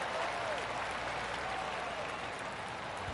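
Crowd applause in a golf video game after a birdie putt at the 16th hole, a steady wash of clapping and cheering held at an even level for a few seconds.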